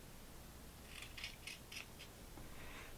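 Scissors snipping felt pieces for a handmade felt rose, four or five quick, faint close cuts in a row against a quiet room hiss.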